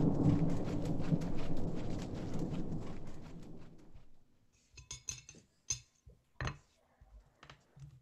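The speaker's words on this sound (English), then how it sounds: "Jane rides through the pouring rain." Pouring rain and thunder as a sound effect: a dense, loud roar of rain and rumble that fades out after a few seconds, followed by scattered sharp clinks and knocks.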